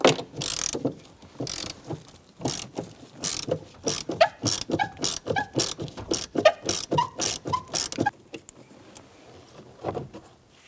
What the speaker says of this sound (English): We're going to remove this 10mm screw right here beside the shifter.